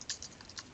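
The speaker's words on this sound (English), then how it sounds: "type in some information" A few quick keystrokes on a computer keyboard, light clicking taps close by with no voices.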